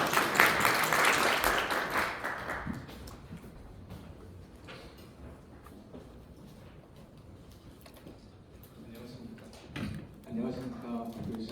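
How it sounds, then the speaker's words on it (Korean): Applause from an audience at a Web3 presentation event welcoming a presenter, a fairly loud crowd burst at the start that fades into scattered claps, then a voice begins speaking. "큰 박수로 맞아주시기 바랍니다"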